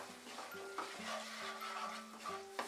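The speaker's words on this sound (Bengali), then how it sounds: "এবারে মশলাটা আমরা কষিয়ে নেব, আঁচটা মিডিয়ামে করে নিয়ে কষাবো।" Spice masala for rajma curry, loosened with a little water, is stir-fried in a pan over medium heat, giving a soft, continuous sizzle with faint stirring scrapes, close and quiet, with no talking.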